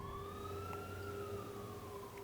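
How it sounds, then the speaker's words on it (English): Police and fire truck sirens wail, rising and falling in the distance, faint and continuous, with a low rumble of traffic underneath. "I'm sorry for the police siren in the background"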